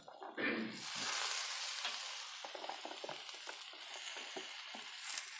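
Chopped white cabbage, mustard greens and leek with egg frying in a pan and being stirred, a soft hiss with a louder sizzle surge early on, then scraping taps of the spatula.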